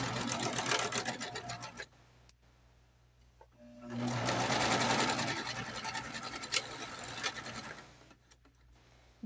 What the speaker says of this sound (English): So now I'm going to sew around the curved part of the pocket.